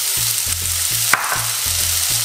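Garlic and white onion sizzle loudly in hot olive oil in a pan, a dense continuous frying hiss close up with a steady low rhythmic hum beneath and one brief clatter midway.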